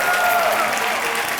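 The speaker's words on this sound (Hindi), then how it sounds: "जोरदार तालियां सिद्धार्थ और कैटरीना के लिए।" Studio audience at a comedy TV show gives loud, sustained applause for Siddharth and Katrina, dense clapping from a large crowd with a brief voice over it.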